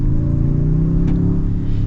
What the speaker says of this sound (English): I love the engine. The hybrid turbo V6,